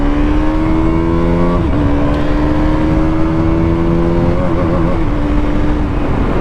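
A 2026 KTM Duke 200cc motorcycle launches hard in a 0 to 100 run, the engine whining loud and close as it climbs steadily in pitch through quick gear changes.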